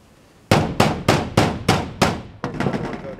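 Hammer blows on a roof during repair work, six sharp evenly spaced strikes ringing close and loud, followed by a quicker flurry of lighter taps.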